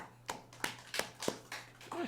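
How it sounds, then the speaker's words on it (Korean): A church congregation claps during a sermon, about six separate claps or short bursts spaced roughly a third of a second apart, fairly close and modest in volume. "근데 박수 치는 사람들이 웃으면서 박수 치는지 모르겠네"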